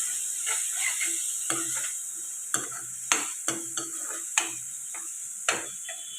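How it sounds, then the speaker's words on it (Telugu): Garam masala and spices frying in a pan for an egg curry, stirred with a utensil that scrapes and taps the pan in sharp, irregular knocks over a steady close sizzle. "ఒక నిమిషం పాటు మసాలాలన్నీ ఫ్రై చేసుకోండి"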